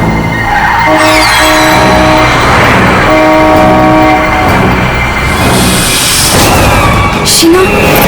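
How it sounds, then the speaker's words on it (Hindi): A car horn honks again and again, loud and close, over rumbling traffic and road noise, with a long sustained blare in the middle. "हॉर्न पे हॉर्न मार रहा है।"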